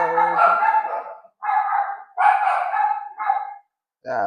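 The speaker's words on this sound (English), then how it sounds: "my apologies for my dogs barking" Several dogs bark in loud, close bursts with short pauses between volleys, late at night during a soccer watchalong stream.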